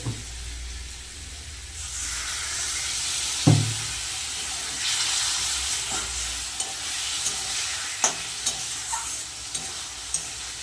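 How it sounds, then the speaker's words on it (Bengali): Spices sizzle and get stirred in a pan while bogo fish curry is cooked. A steady broadband fry hiss runs throughout, with a sharp clink of a utensil near the middle and lighter scraping taps toward the end. "ভালো করে সব মশলাগুলো কষিয়ে নেব"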